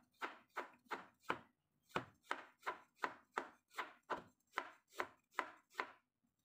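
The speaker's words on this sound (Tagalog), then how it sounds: "Kailangan tingnan pa rin natin yung hinihiwa natin para hindi naman tayo masukatan." A knife slices through ginger root on a cutting board while pickled ginger is prepared: about fourteen crisp, evenly spaced cuts in a steady rhythm, close and clear, with no talking.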